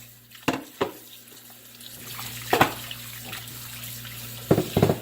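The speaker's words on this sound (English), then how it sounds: "I'm gonna start by washing the fish with cold water." Cold tap water runs and splashes into a sink, with a few louder sloshes as fish is rinsed under the stream, close by with a faint hum.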